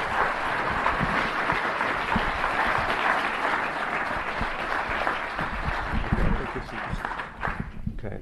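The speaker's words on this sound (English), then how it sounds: "this applause is for an amazing body of work" A theatre audience at the Museum of the Moving Image in New York gives Tim Burton a sustained round of applause, a dense steady wash of clapping that fades slightly toward the end.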